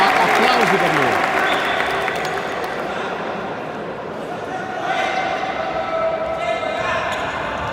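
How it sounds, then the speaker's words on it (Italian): Crowd applause at an indoor futsal match in Sicily following a player's shot, a broad burst of clapping under loud arena noise and a ball bouncing, easing slightly then swelling again. "Sul fondo, la conclusione di Foderà, applausi per lui."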